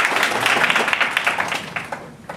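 An audience at a Korean-language presentation event applauds, a dense patter of many hands clapping at once that gradually thins and fades toward the end.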